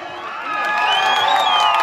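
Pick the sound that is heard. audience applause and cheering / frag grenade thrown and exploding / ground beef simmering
audience applause and cheering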